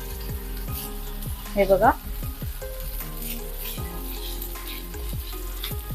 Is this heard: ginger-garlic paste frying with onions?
yes